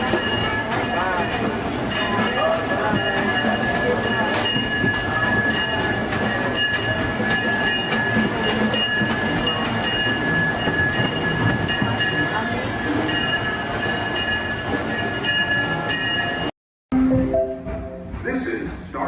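Disneyland Railroad train at Main Street Station, a steady rumble with clattering wheels and a thin high squeal, an announcer talking throughout, then a brief cut before a quieter stretch.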